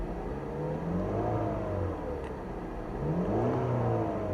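A misfiring car engine with a head gasket fault runs steadily and close, its pitch rising and falling in a couple of smooth revving swells.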